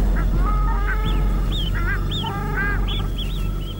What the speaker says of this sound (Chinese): 公鸭立即发出警报。